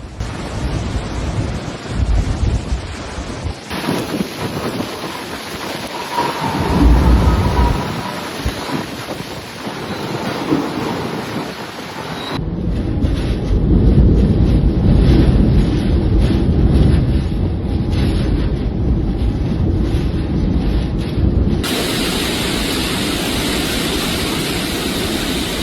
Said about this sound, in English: residents faced heavy rain and gusty winds that made outdoor movement dangerous